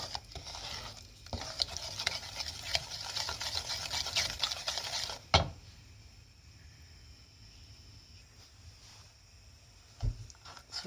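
Playdough mixture is stirred in a pan on the stove, giving a soft scraping, shuffling texture for about five seconds; then a sharp knock, quiet stillness, and another brief clatter near the end.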